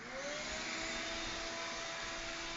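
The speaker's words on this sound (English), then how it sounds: "I gotta turn on the vacuum cleaner" A vacuum cleaner runs in a shop, a loud, steady, close whine with a constant high-pitched motor tone and no pauses; no talking over it.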